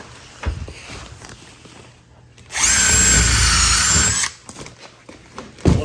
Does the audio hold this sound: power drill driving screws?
yes